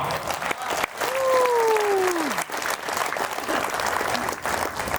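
Applause and cheering from an audience at a Hindi comedy poetry gathering, steady clapping with a brief whistle-like tone rising above the crowd.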